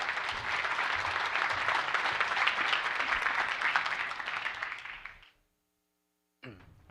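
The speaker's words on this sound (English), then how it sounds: "So a warm round of applause for Mike Bland." Conference audience at DevOpsDays DC 2016 giving a warm round of applause, a full crowd clapping steadily for about five seconds before fading to silence, then a brief sound as a speaker begins.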